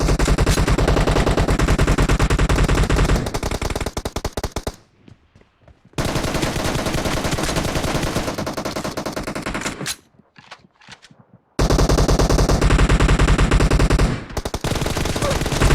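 Rapid automatic gunfire in the video game PUBG, loud dense bursts of shots separated by two brief near-silent pauses, firing resuming hard after each gap.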